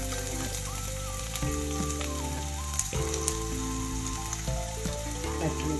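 Onion frying in hot oil for street-style bread pakora, a steady close crackling sizzle that runs without a break under faint background tones.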